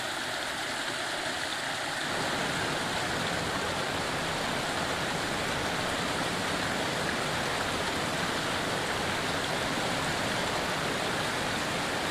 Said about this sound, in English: As they plunge down the mountain slopes, the cascades grow ever larger.